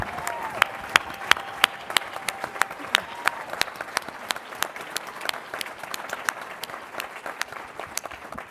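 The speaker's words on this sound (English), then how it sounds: "Would you give them all a round of applause," Applause from an audience at a leadership awards ceremony, a steady patter of many hands with a few sharp, near claps standing out, continuing evenly for several seconds without talk.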